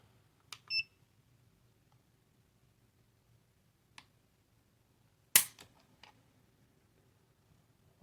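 A Taurus GX4 pistol trigger pulled, giving a sharp, crisp metallic snap midway through otherwise near silence, with a few faint light clicks and taps around it, close and clear.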